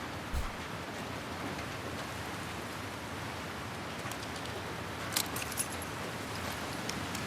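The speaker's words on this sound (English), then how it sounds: "Put the sound of the rain on the you know, on the container and everything." Steady rain from the video game The Last of Us Part II drums on a metal container, a dense even hiss holding for several seconds, with a couple of brief sharper clinks.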